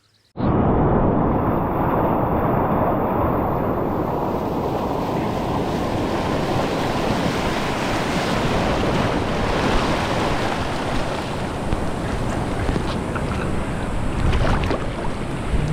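Ocean waves and surf roar continuously while boogie boarding off Costa Rica, a dense, loud wash of rushing water and wind buffeting close to the microphone, with no voices.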